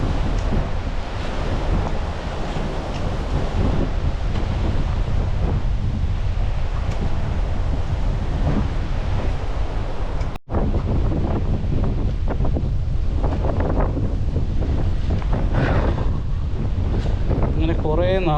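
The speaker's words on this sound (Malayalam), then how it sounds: "ഇവിടെ നല്ല കാറ്റടിക്കുന്നുണ്ട് കേട്ടോ" Strong gusting wind roars across an exposed mountainside on the Agasthyarkoodam trek, a loud continuous rush buffeting the microphone, with a brief dropout midway and no talking.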